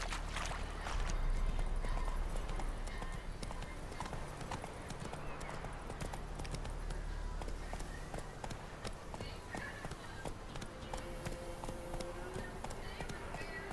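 Roach the horse gallops in The Witcher 3, a steady clip-clop of hooves running throughout with a brief whinny-like cry, while a voice talks over the hoofbeats.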